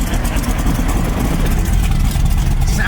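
Modified 1965 Ford Mustang engine idling, a loud, rough, steady low rumble with a choppy, lumpy texture, heard close up without talk.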